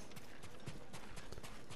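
Horse hooves clip-clop at a trot in the samurai video game Ghost of Tsushima, a quick even run of close hoof strikes heard alone.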